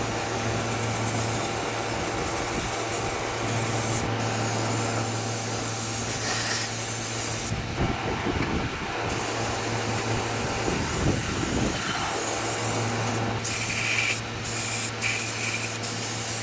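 Cleaner sprayed onto engine valve covers of an F100 pickup in a garage, several hissing spray bursts over steady background hum, close and moderately loud with no talk.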